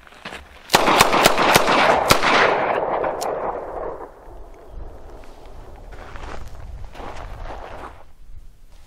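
.38 Special revolvers fire at an outdoor shooting range, a fast string of five or six loud, sharp shots in the first couple of seconds ringing into a long echoing tail, then quieter shuffling and distant pops.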